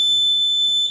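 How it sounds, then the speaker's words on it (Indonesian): A Hochiki fire alarm panel resounds its alarm after being silenced: a steady, piercing electronic buzzer tone holds for the full second, loud and close, with a faint low hum beneath. "Resound alarm ini untuk membunyikan kembali ketika alarm di silent"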